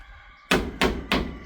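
A hammer drives nails into corrugated zinc roofing sheets while a farm hut in a rice field is extended. Three loud, close, sharp metallic strikes land about a third of a second apart, each ringing briefly, with no talking.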